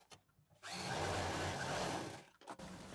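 A sewing machine stitches fabric for a homemade organiser for jewellery and undergarments, a steady motor whir running for about two seconds close by, with quiet pauses before and after and no talk.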